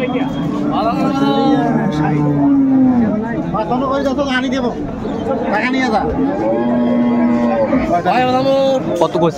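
Cows and calves moo loudly at a busy rural cattle market, several long, drawn-out calls overlapping one another above a steady murmur of crowd chatter, close and continuous throughout.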